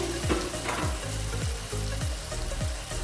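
Potatoes, peas and carrots with added spices fry and sizzle in a pan, a steady close hiss broken by rhythmic scraping strokes of a spoon stirring roughly every half second.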